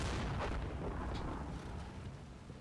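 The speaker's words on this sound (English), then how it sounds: "I know the Germans were calling in some artillery" Distant artillery fire in the Normandy wargame Combat Mission: Battle for Normandy, a low rumbling boom that rolls on continuously, dense and muffled, with no talk over it.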